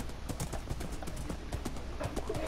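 Horse hooves in Minecraft clip-clop in a quick, steady rhythm, close and moderately loud, with no voices.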